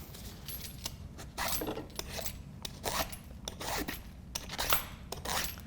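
An oversized garden zucchini being peeled with quick, scraping strokes that come in irregular bursts, close and fairly quiet, with no voices.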